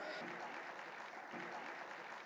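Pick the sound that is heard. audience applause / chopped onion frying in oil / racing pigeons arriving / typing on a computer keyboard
audience applause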